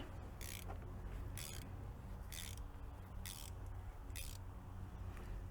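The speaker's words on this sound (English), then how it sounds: "Put the ratchet on. Now this calls for 25 Newton meters. I'm going to turn it until it stops." A ratchet turns the oil filter on a Chevy Equinox 2.4L engine in five short, evenly spaced bursts of quiet clicking over a faint background hum.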